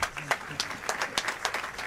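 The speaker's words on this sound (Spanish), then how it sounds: "Muchachos, un aplauso, qué chimba." A small group claps for a few seconds, irregular hand claps close by and moderately loud, with a voice faintly mixed in.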